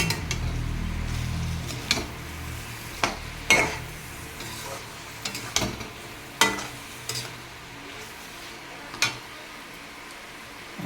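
Masala frying in a pan and being stirred, soft faint sizzling with a series of sharp spoon clinks and scrapes against the pan at irregular intervals.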